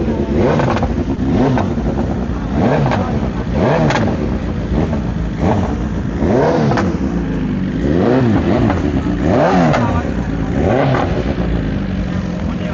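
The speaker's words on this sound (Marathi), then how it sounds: "BMWची 1000 cc 1000 cc ची गाडी आहे." A BMW 1000 cc superbike engine revs repeatedly in rising and falling bursts, loud and close, amid a busy superbike show crowd at India Bike Week 2025, with voices faintly mixed in.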